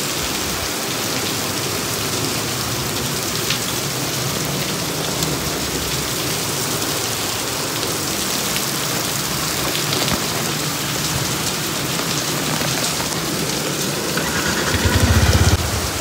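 Heavy rain pours steadily as a dense, continuous hiss for the whole stretch, with a vehicle engine idling faintly beneath it and a low thump near the end.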